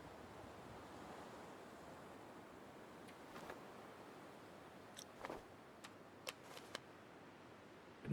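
Wind in the video game The Long Dark blows as a low, steady rushing moan with gentle swells, broken near the end by a few small clicks and taps.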